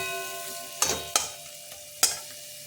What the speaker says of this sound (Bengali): দিয়ে আমি একটু কষিয়ে নিচ্ছি।